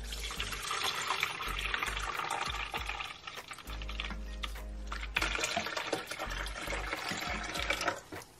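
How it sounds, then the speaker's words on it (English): Distilled water being poured into a container for mixing color film developer, a splashing, gurgling pour that pauses briefly midway and then resumes, close and alone. "we're going to pour in our distilled water first, starting with the 20 ounces for the developer"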